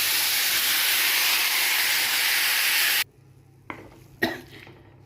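Tomatoes and mint cook under a lid, giving a steady, loud steam hiss for about three seconds before it cuts off, followed by a few quieter clatters.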